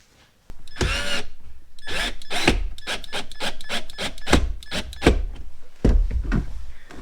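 A power drill drives screws to fasten a mount while pulling wire for a Renogy battery monitor, giving a run of close, loud bursts of whirring and clattering that are repeated in a choppy rhythm, with no talking.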